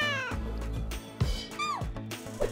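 Cat meowing repeatedly in a busy cafe, several loud close meows with rising and falling pitch, some drawn out into a wail, with a few thumps between them.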